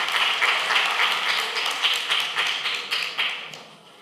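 An audience at a children's Urdu cultural festival claps in a dense, steady round of applause with no voices, holding strong before gradually thinning and fading near the end.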